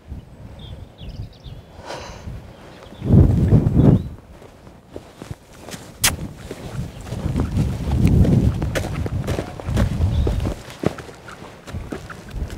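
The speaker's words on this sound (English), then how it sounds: "How to catch your horse?" A horse walks on a paddock, hooves clip-clopping irregularly at close range, with scuffs, snorts and heavier shuffling bursts throughout.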